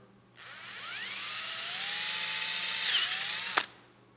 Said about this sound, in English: I'll drill a couple holes right where the old ones were.